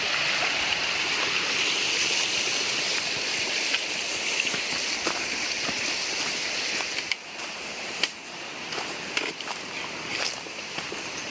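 Stream water rushing beside a hiking trail on the Foothills Trail, a loud steady close roar of flowing water with occasional clicks and footsteps, continuous throughout.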